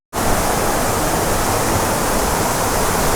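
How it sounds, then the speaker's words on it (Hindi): A high waterfall roars in a continuous, loud, broadband rush of falling water that starts abruptly and holds steady without a break, with no voices over it. "वो मुझे दिखा झरना, आवाज़ शेर की तरह दहाड़ रहा था"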